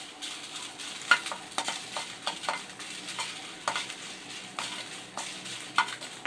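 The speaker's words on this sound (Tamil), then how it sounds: "இதையும் நல்லா லைட்டாக அப்படியே சூடாகிற வரைக்கும் வறுத்துக்கலாம்." Ten dried red chillies dry-roasting in a pan for paruppu podi, with a spatula pushing them around in a steady run of soft, dry scraping strokes, fairly quiet and close, with no voices.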